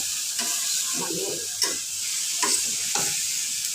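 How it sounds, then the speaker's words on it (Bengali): Mixed vegetables such as radish and carrot stir-fried with dried fish, soft sizzling under repeated spatula scrapes and tosses at an uneven rhythm, close by and without speech. "এটা আমি একটু শুটকি দিয়ে ভাজি করতেছি"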